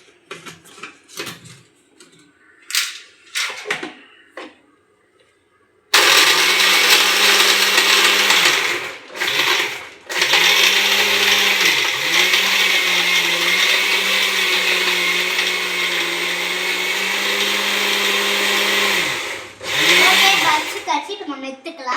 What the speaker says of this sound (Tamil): வாங்க மிக்சியில் போட்டு அடிச்சுக்கலாம்.